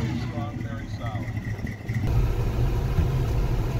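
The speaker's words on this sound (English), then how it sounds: "I'm just going to hop in, hit the key, and the car starts instantly." A 1937 Chevy Coupe engine catches on the key and settles into a steady, rumbling idle, loud and close, with someone talking before and during the start.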